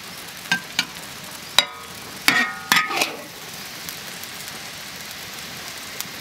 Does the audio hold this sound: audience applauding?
no